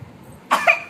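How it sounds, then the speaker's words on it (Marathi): An elderly grandmother gives a single short, harsh cough, close and fairly loud, after a moment of near silence. "आजीला लय खोकला लागलाय हो."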